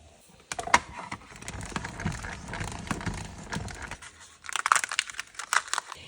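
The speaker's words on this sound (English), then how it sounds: "So now we're going to emboss, cut, and ink it all in one go." A hybrid embossing folder with a die, paper and ink is cranked through a die-cutting machine, giving a stretch of crinkly, crunching mechanical pressing that stops briefly, then a second burst of squeaky rolling and creaking, close and with no talk.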